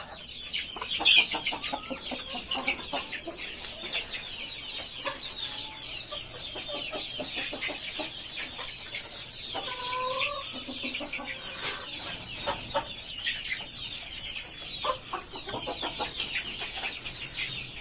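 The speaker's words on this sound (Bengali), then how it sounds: "এই হচ্ছে আমার ফ্যান্সি মুরগি।" Fancy chickens cluck and murmur in a farm coop, with short calls overlapping in an irregular, chattering stream. The birds sound near and moderately loud against a faint background.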